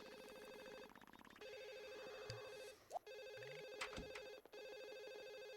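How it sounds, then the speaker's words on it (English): A telephone rings inside The Sims console game, its steady electronic bell repeating in long bursts over background game music, with brief gaps between rings. "Okay, get the phone."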